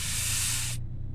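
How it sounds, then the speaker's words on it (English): High-pressure car wash spray in American Truck Simulator, a loud, steady hiss that cuts off abruptly partway through. "There's a car wash."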